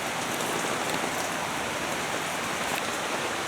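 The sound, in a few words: rain falling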